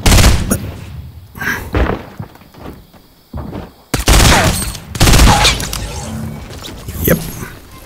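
Rapid gunfire in Fortnite while shooting at an opponent, loud and close, with dense bursts of repeated shots separated by brief gaps.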